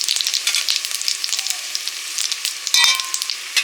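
Whole dried red chillies and cumin seeds sizzle and crackle steadily in hot oil as a tempering for potato dum, a close, bright frying hiss with small pops throughout and no voices.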